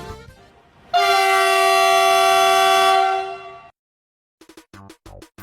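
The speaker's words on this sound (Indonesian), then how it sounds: "mempunyai klakson tipe MKT75 yang banyak digunakan di Eropa" A loud, sustained blast of an MKT75-type horn on a CC 300 diesel-hydraulic locomotive for about three seconds, then a few short sharp sounds after a pause.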